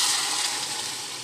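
Broth poured into browned pork in a pot while cooking pork humba, a steady close hiss of splashing, sizzling liquid lasting about a second.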